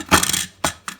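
A Thermomix kneads bread dough of flour and salt, its mechanism giving a grinding whir followed by two short, sharp clunks, close and loud with no talking.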